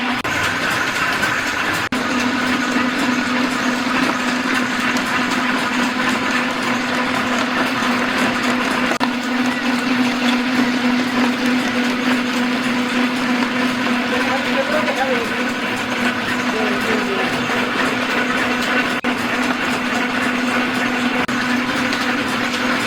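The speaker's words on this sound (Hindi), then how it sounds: "कोई और का तेल निकल रहा है अभी, तो मशीन का बहुत आवाज़ आता है।" An oil press machine extracts oil from mahua seeds, a loud continuous mechanical drone with a steady hum and rattling grind, unbroken throughout.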